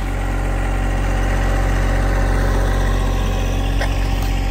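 A John Deere 1025R compact tractor engine idles loud and close in a steady, unbroken drone with a low rumble and vibration.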